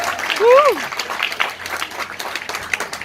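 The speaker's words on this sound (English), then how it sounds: "I think it deserves a big round of applause" An audience at the regional world premiere of the new Nissan Terra in the Philippines applauds in a short, steady burst of clapping with a brief tonal whistle near the start.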